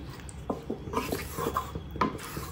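A spoon stirs dhaniya chicken in a metal cooking pot, making soft scrapes and light clinks in an irregular rhythm, quiet and close, with no talking.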